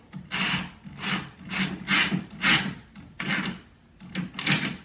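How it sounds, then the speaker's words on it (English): A screw is driven into a pre-drilled hole to fix a door latch plate on an indoor door, heard as a close series of short, rhythmic grinding bursts with brief pauses between. "I'm going to screw the plate here. I did pre-drill the hole,"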